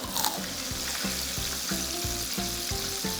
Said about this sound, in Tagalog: Ito yung unang-unang na prito natin.